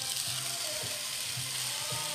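A bone-in steak sizzles steadily in a hot grill pan, a continuous close frying hiss with faint crackles and low pops throughout, no talk.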